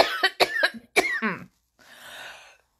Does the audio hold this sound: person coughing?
yes